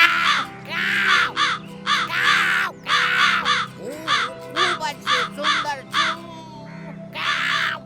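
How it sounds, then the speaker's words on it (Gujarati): A crow in an animated children's story caws tunelessly in a string of harsh, loud calls, some short and some drawn out, separated by brief pauses. "કાગડો પોતાના પગેથી રોટલીને દબાવીને બેસુરી અવાજમાં ગાયન ગાવા લાગ્યો"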